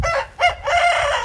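A rooster crows loudly and close by, one drawn-out crow in several rising and falling segments.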